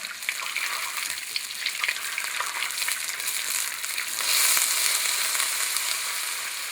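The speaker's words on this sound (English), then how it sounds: "And start a whisking. Whisk it real good." Flour being whisked into melted butter in a pan for a blond roux for crawfish étouffée, giving a steady bright sizzle with faint scraping whisk strokes, close and continuous, growing slightly louder near the end; no voices.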